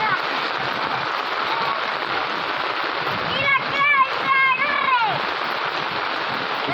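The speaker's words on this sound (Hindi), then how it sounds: "इस वक्त मर्दान में शदीद बारिश हो रही है" Heavy rain pouring steadily in Mardan amid flood conditions, a dense broadband wash of water with a few faint voices briefly rising midway.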